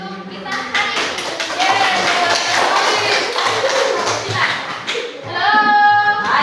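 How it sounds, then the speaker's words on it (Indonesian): A classroom of junior high school students claps together for several seconds, a dense burst of applause that fades into voices and a brief renewed swell near the end. "tepuk tangan untuk kita hari ini"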